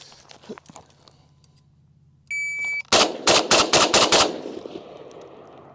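An FN FNC rifle fired at a shooting range: after a short electronic timer beep, about six sharp, loud shots ring out in quick succession, followed by fading reverberation.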